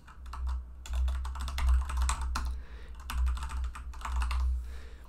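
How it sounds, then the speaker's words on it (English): Fingers typing on a computer keyboard at close range, quick bursts of clicky keystrokes with short pauses over a low steady hum. "and again we're going to type in the email"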